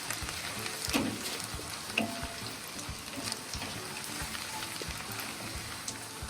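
Onion sizzling in hot oil with tempering spices over a low flame for rava upma, a steady close fry with faint clinks of stirring and no talk.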